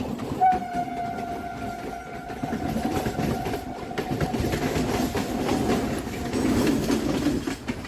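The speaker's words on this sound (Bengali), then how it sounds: "কল্যাণী সীমান্ত বজবজ লোকাল" A Kalyani Simanta–Budge Budge local train on the Kolkata Circular Railway rumbles past close by with steady wheel clatter, and a long horn blast rings out near the start.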